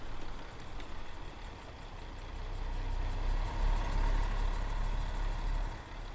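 A low, rumbling truck engine in Euro Truck Simulator 2 idles and revs gently while maneuvering, swelling slightly louder midway, a steady mechanical drone with no voices.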